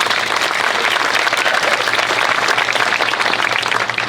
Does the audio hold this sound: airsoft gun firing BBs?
no